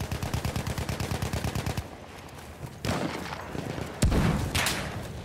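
Sniper rifle fire in the video game Battlefield 1, with sharp loud cracks standing out over a rapid rattling burst of automatic fire and the low rumble of battle.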